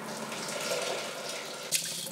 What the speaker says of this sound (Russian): Собранные семена промойте в сите под струей воды.